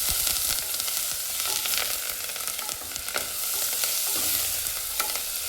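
Onions fry with a pinch of salt in a hot pan for palak rice, a continuous close sizzle broken by repeated spatula scrapes and stirring strokes, with no one talking.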